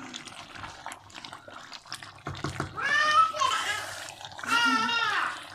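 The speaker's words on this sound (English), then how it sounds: "Sorry for the noise. It's my baby." A baby girl babbles and lets out rising, squealy cries alongside faint kitchen clatter and running water while spinach stew is cooked, close and fairly loud.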